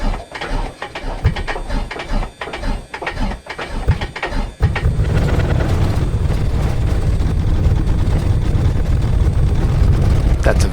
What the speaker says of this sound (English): I just want to demonstrate how the cold affects how this engine runs